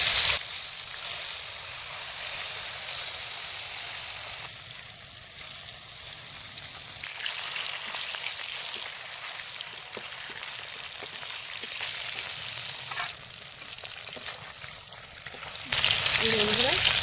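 Snakehead fish sizzle in hot oil with a loud, continuous crackling hiss that holds steady, dips slightly midway, then swells again near the end; no voices are heard.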